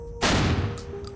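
A single loud, sharp crack of rifle fire in Reverse 1999 booms out and then decays through a short echoing tail, with no one speaking.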